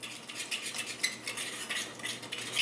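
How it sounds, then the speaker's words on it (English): A utensil stirring honey and mustard together in a bowl, a continuous soft scraping and clicking with an uneven swirling rhythm, close and fairly quiet, no talking. "Okay, so we have honey and mustard in here. Mix them together."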